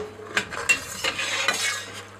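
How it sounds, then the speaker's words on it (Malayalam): Cooked chicken for Turkish chickpea chicken pilav is moved into a vessel with a metal utensil, giving several sharp scrapes and clinks against the pot over a faint background hum. "അതിനെ നമ്മൾ ഒരു പാത്രത്തിലോട്ട് മാറ്റുകയാണ്"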